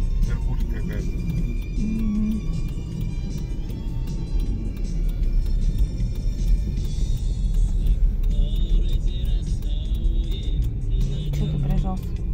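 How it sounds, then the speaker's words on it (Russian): A car drives slowly past on a snowy winter street in the town of Myshkin, its steady engine rumble close and continuous while people talk over it. "Машина объезжает, пускай. Как медленно идет."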